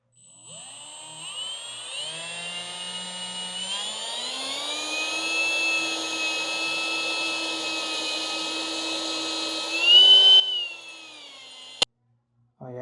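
A power drill on its slow setting bores into wall studs with a steady whine that rises in pitch partway through, briefly strains near the end, then stops abruptly.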